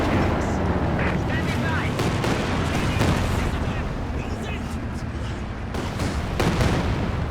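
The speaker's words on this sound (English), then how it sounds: "Katyusha coming into the MG mortar area." A Katyusha rocket barrage in Company of Heroes 2 comes down on a machine-gun and mortar position, heard as a dense, continuous roar of overlapping rocket bursts and explosions with repeated sharp cracks, loud throughout.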